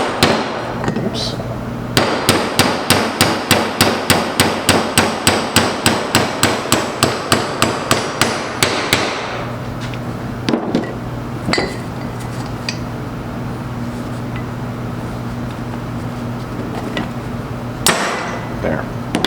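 A steel hammer strikes a bearing and seal driver while driving out the rear bearing of a Laycock de Normanville D-Type overdrive, in a quick regular run of about thirty sharp metallic blows, then a few scattered knocks.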